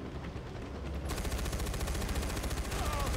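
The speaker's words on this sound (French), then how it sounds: "Ah putain, il y a une mitrailleuse!" Machine gun fire rattles continuously in the video game Far Cry 4, a loud rapid burst of shots that starts after a second of lighter gunfire and keeps going over game ambience.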